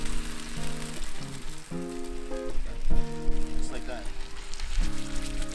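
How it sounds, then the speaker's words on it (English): Big fish fillets sizzling in a pan at a campsite cook on the Dry Tortugas, a steady crackling hiss heard faintly beneath prominent background music with harmonic tones throughout. "You hear that sizzle in there."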